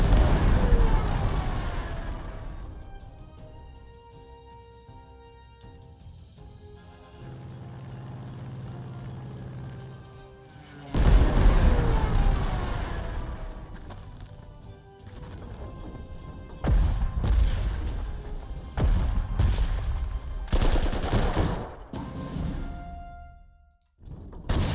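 A Stuka dive bomber attack in the strategy game Panzer Corps 2, heard as several loud crashing explosion impacts with rumbling decay and quieter gaps between them, and a faint voice at times.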